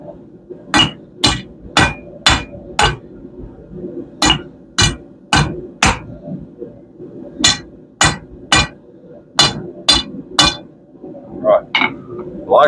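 A hammer forges a steel piece for a swing arm cooker on an anvil, ringing strikes in quick bursts of three or four with short pauses between, loud and close.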